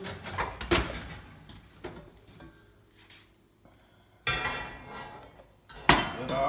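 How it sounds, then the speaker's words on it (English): A heated pot for bread baking is taken out of a 450-degree oven and its lid lifted off: oven door and metal clanks, a scraping slide, then sharp clinks of the lid, close and distinct. "we're going to take our heated pot out of the oven"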